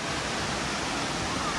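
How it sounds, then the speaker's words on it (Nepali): Tindhare waterfall near Kathmandu roars in a dense, unbroken wash of falling water, loud and steady with no break. "तिनधारे झरना"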